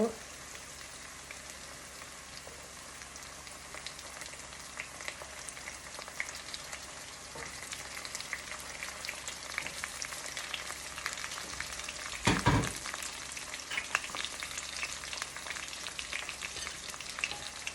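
Browned onions frying in oil as spices go in for chicken kosha, a long even crackling sizzle like light rain, with one brief louder burst partway, no voices heard.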